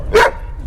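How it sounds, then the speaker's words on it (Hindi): A black dog gives one short, loud bark close by outside a house, with low background rumble before and after. "एक काला कुत्ता मेरे घर के आगे रोए जा रहा था।"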